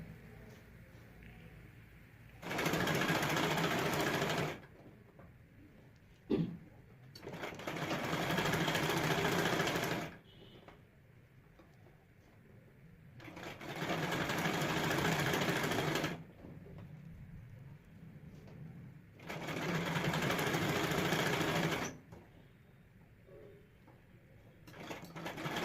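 Sewing machine stitching along the folded edge of a half-net blouse collar, running in four steady bursts of a few seconds each with short quiet pauses between, close and fairly loud, no talking.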